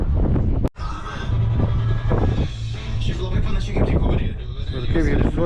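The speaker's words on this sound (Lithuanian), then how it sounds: "Vėjas didžiulis šiandien vėl. Oi, pučia smarkiai." Strong, cold wind buffets the microphone at a rooftop rafter installation, a loud continuous roar with gusting surges and one brief dropout, while people talk over it.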